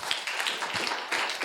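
Audience at a venture capital panel event gives brief, fairly faint applause, a soft patter of clapping.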